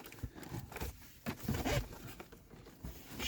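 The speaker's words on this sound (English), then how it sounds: "now we can pop this panel" A car's interior trim panel is pried loose with a trim removal tool, giving close, crackling bursts of scraping and snapping plastic in an uneven rhythm.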